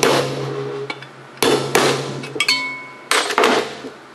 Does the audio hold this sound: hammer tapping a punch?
yes